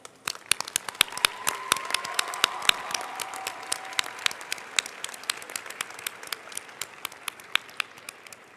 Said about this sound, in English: can we give a round of applause to all the participants and attendees?